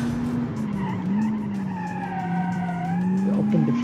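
A car brakes hard, its tyres squealing in a long, steady skid that holds for about four seconds, loud and close, with engine noise underneath.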